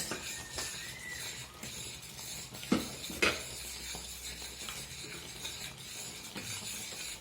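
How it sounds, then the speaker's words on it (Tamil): A spoon or spatula stirs a thick coconut burfi mixture in a pan, giving soft continuous scraping and shuffling with a couple of sharper knocks against the pan, close and fairly quiet. "அதனால் நாம் அடி பிடிக்காமல் கலறிட்டுக்கிறேங்க"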